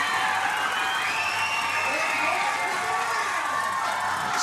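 Big crowd at a late-night softball game in Sulphur, Louisiana, cheering and whooping loudly and steadily, with scattered shouts and applause filling the whole stretch.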